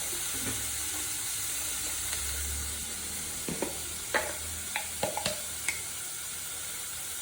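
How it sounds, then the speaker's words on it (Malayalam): Crushed black pepper frying in a pan, a steady close sizzle with a series of sharp pops and crackles bursting out in the second half, with no talking. "ചതച്ച കുരുമുളക് ഇത് നല്ല പോലെ കുക്ക് ചെയ്യണം"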